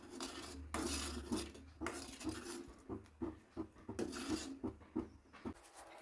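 Metal spoon stirring and scraping fruit custard with cardamom powder in a pan, repeated close clinks and scrapes in irregular bursts, no talking.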